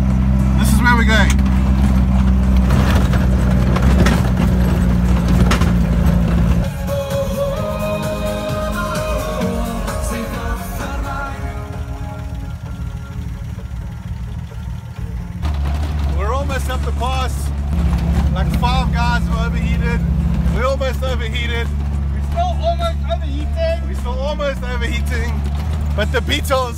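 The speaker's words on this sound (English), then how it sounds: "We are literally driving over the mountain." A car in a rally climbs over the Oswatberg Pass, its engine droning loudly and steadily with shifts in pitch, while people talk over the road noise throughout.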